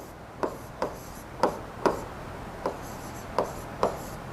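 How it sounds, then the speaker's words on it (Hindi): Chalk or marker writing on a classroom board during a Hindi-medium science lesson, seven short scratchy strokes at an uneven rhythm, close and fairly faint, with no talking. "मैं दोबारा लिख देता हूं, रॉबर्ट"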